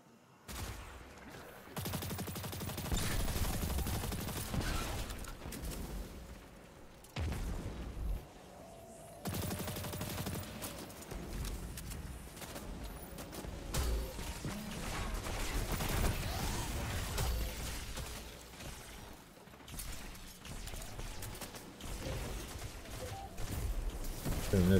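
Gunfire in a video game, with dense, almost continuous bursts of shooting and explosions filling the whole stretch and only brief lulls between volleys.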